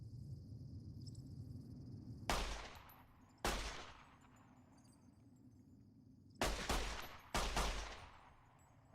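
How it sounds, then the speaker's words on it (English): Gunfire from the video game Fallout New Vegas: four loud, sharp shots in two pairs, each with a short decaying tail, over a steady background of chirping insects. "couple shots connected"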